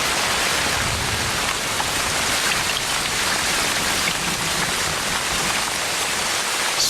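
Heavy rain pours down in the Amazon rainforest, a dense, unbroken, loud hiss of falling water that stays steady throughout with no voices.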